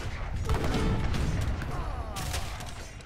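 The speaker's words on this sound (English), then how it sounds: "Another cannon? Sure, have it shoot that." Cannon fire and battle clatter in the Age of Empires 3 strategy game, a dense burst of booms and mechanical rattles running continuously through the few seconds with no talk.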